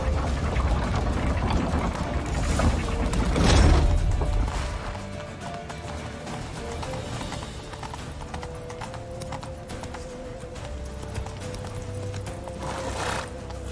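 Horse hooves clip-clop at a steady galloping rhythm in The Witcher 3, close and continuous, with occasional whinnies and a brief louder burst of movement partway through, no talk.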